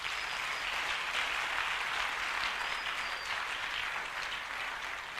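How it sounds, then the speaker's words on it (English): Sustained audience applause at the Success Africa Summit conference at the University of Cape Coast, a steady dense patter of many hands clapping throughout, fairly distant with no voices over it. "clapping is part of the motto of the conference"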